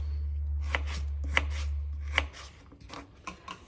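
Potatoes are being chopped into chips on a board: a knife strikes sharply about three times in an even rhythm over a low steady hum. Softer, irregular cutting taps follow once the hum stops.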